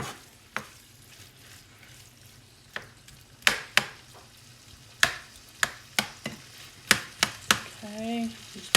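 Meat and rice being broken up with a spatula in a pan over low heat, a series of sharp scrapes and clacks at irregular intervals over a quiet sizzle, with a brief voice at the end.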